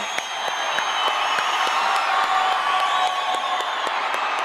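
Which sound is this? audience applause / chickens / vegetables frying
audience applause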